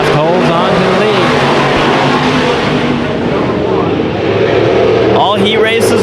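Race cars roaring around the track in an 8-lap heat race at Antioch Speedway, a dense continuous engine drone with shifting pitch as cars pass, loud and constant with an announcer talking over it.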